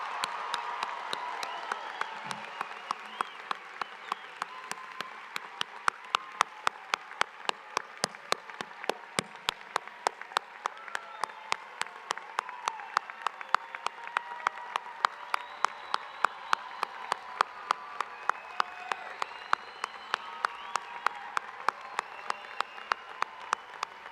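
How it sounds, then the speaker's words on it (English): Audience applause for 2024 Herbert College of Agriculture graduates at a spring commencement ceremony, sustained clapping from a large crowd across the whole stretch, steady and moderately loud with individual sharp claps standing out near the microphone. "Let's give our 2024 Herbert graduates one more round of applause."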